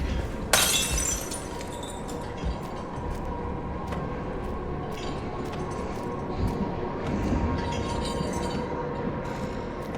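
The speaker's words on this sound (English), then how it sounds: "then tosses the glass bottle" A glass bottle in Resident Evil 9 hits and shatters in one sharp, bright crash near the start, followed by a sustained rumbling ambience with scattered faint clinks and ticks.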